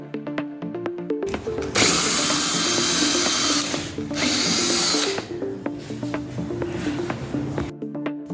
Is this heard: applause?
no